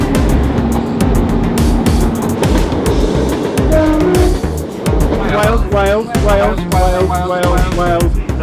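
A train rolls along the Heart of Wales Line between Wales and England, a steady rumble and rattle running throughout beneath people talking.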